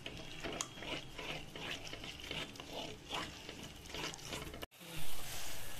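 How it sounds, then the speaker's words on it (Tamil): A little water is poured into cooking palak paneer masala, a continuous hissing, bubbling wash of liquid for several seconds that cuts off abruptly near the end. "இப்போ கொஞ்சோண்டு தண்ணி ஊற்றிக்கலாம் இந்த மசாலா பச்சை வாசனை போகிறதுக்கு."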